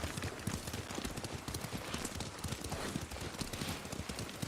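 Horse hooves clip-clop steadily at a riding pace in the video game Ghost of Tsushima, a dense rhythmic pattern of close impacts over an outdoor ambience, with no talk.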